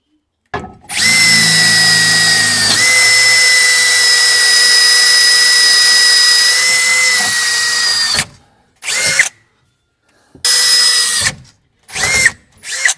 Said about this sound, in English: Let me drill them out.